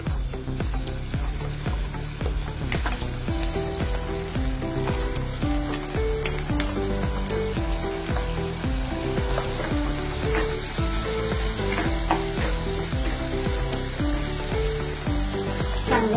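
Ground masala paste fries in oil with turmeric, onion and tomato, a loud continuous sizzle with rhythmic stirring scrapes pulsing throughout under a repeating musical backdrop.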